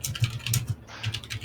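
Fast, angry rage typing on a computer keyboard, dense bursts of clacking keystrokes with a brief pause midway, close and alone without any voices.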